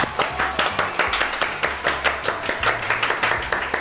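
Studio audience clapping on a Turkish cooking competition show, a steady run of quick, sharp claps with a faint rhythmic bed of music or noise beneath, fairly even in loudness throughout.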